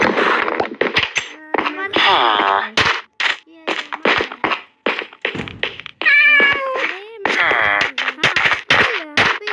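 Cats meow repeatedly in the Minecraft video game, with a string of close, loud mews and drawn-out wails over about ten seconds, broken by brief thunks and clanks between the cries.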